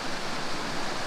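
Dunseverick waterfall pouring down toward the sea, a steady, loud broadband rush of falling water that stays constant and close throughout, with no voices.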